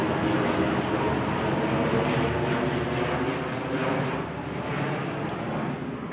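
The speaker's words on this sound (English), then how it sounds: "they send these planes over my roof" A small propeller aircraft flies overhead at low altitude, its steady engine drone loud and continuous for the whole stretch, easing slightly toward the end, with no talking.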